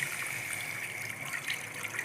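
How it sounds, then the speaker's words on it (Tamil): Water pours steadily into a cooking pot of tomato-based tiffin kurma, a continuous close gushing splash running the whole time with no voices. "இப்போ தண்ணி ஊற்றிக்கலாம்."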